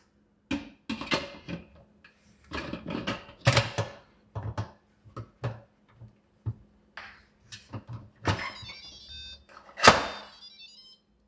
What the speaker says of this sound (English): And then now you have to close the lid.